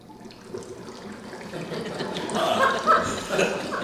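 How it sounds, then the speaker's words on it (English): Bath bubbles pour into a tub as a radio sound effect, a rising watery rush and fizz that builds over a few seconds and grows louder toward the end. "One pours it into the basin,"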